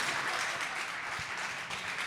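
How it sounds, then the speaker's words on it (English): A crowd at a Foot Locker store applauding basketball player LaMelo Ball's arrival, a continuous dense roar of clapping, loud and close, with no clear speech. "Give me a round of applause."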